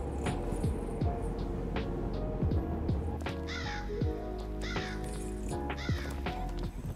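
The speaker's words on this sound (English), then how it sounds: "every time we fall, bro, that crow is making that noise" A crow in the game Chained Together caws repeatedly, harsh calls recurring every second or so over a dense, steady game background.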